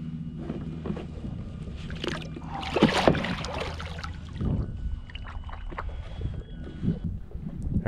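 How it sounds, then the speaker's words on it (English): A kayak paddled through coastal water while redfish fishing, with steady low wash, soft paddle splashes and light wind buffeting against the microphone, no talking. "so I took a wide swing with the kayak"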